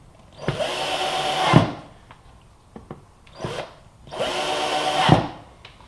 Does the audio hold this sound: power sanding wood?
yes